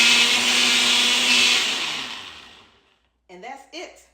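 Watermelon and strawberries grind in a kitchen blender with a loud, steady motor whir that winds down and stops, followed by a few brief clatters or knocks.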